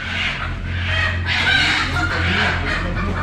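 Chickens cluck and squawk continuously in a crowded coop, several birds calling over one another close by, over a constant low hum.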